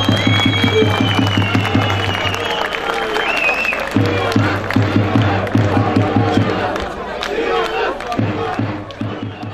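A crowd at an AK Party mayoral campaign rally in Sivas chants loudly in a steady, rhythmic beat, with pulses that pause briefly and then start again over a constant roar of cheering.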